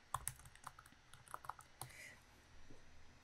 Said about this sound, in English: So I just typed in Fine Edges.